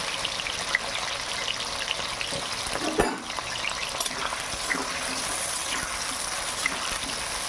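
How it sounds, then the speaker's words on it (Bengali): Potatoes frying in hot oil in a kadai in a village kitchen, a steady hissing sizzle with a brief louder clatter near the middle. "আর আলুটা আগে ভেজে নিই"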